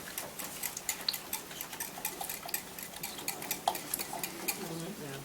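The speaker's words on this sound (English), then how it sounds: "you just mix it all together" A utensil clinks and taps steadily against a dish as eggs are mixed into tart filling for a 9-inch blueberry and chocolate tart, a quick irregular rhythm, close and fairly quiet.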